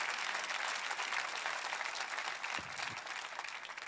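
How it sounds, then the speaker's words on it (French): Sustained applause from a church congregation during a sermon, a dense steady wash of clapping heard from some distance, fairly even throughout with a slight dip near the end. "Quelqu'un devrait applaudir."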